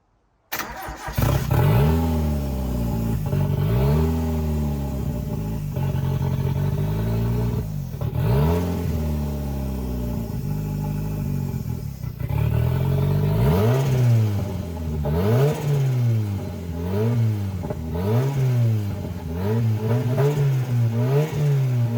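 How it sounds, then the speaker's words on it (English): A turbocharged CA18DET engine in a JDM Miata is started for the first time, catching after a second and then revving up and down repeatedly in loud, close swells as it struggles to hold an idle, with no talking. "So I'm going to get this car started up real quick"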